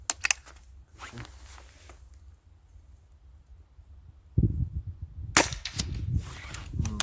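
Sharp gun-like cracks from an Artemis P18 6.35mm PCP air rifle: a couple near the start, then a louder burst of snappy shots and rattling near the end, over quiet background.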